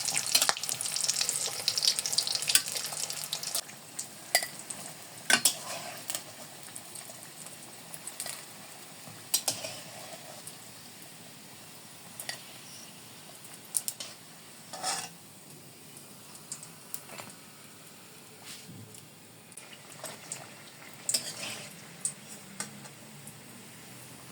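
Potato egg buns fry in a pan, giving a soft, steady sizzle broken by scattered clicks and taps of turning, with no talking.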